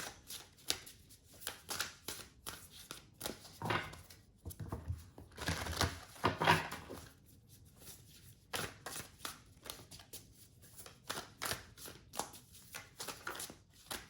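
Tarot cards being shuffled by hand, rapid riffling and flicking bursts in quick irregular runs with brief pauses, close and crisp, with no talking.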